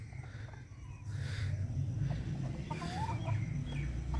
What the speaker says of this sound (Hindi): ये देखो इधर तीन मुर्गियाँ, वो एक मुर्गा खा रहा है और वो दो मुर्गियाँ खा रही हैं